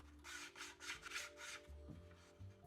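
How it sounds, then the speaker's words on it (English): A 5/16-inch steel rod pin being sanded smooth by hand for a box joint crosscut sled, several short rhythmic rasping strokes up close, followed by a faint lower hum. "I sanded the pin so that it's smooth in the channel."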